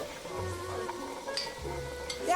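A jianbing pancake sizzles on a hot griddle at a breakfast stall, a short close crackle with scraping and stirring sounds over about two seconds.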